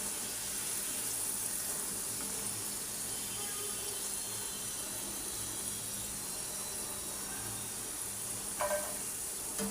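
French fries sizzle steadily in hot oil, a constant bubbling hiss throughout with a brief clink of a utensil near the end.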